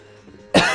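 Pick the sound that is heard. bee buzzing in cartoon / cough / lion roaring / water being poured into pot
cough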